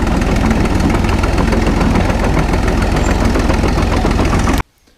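A Caterpillar RD6 tractor engine runs loud and close at a steady, rough idle with a constant chugging throb, then cuts off abruptly near the end.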